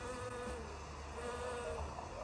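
A bee buzzes in a Keynote animation: a steady, continuous insect drone that fills the whole stretch without a break, loud and close.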